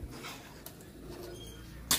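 A pigeon coos softly in low, murmuring notes against a faint background, with a brief sharp sound at the end.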